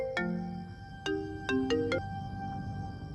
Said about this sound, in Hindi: अच्छा, मैं अपने फोन से फोन करता हूँ।